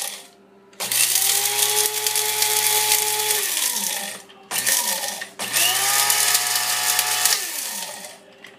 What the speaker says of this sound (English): I'm going to put it in and carry on grinding it a little bit.